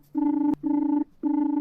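A telephone rings in a home three times, each long electronic trill followed by a short pause, loud and close with no talk over it.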